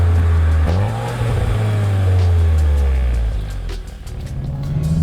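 A 2025 Volkswagen Jetta GLI with sport exhaust revs on downshifts, loud close engine rises and falls with a sharp blip early on and another climb near the end, no talk.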